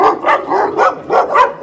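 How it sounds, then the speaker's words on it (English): A huge dog near a trout river barks in a loud, close series of about five deep woofs at an even, unhurried rhythm, with no talk over them. "Wow, that dog is huge."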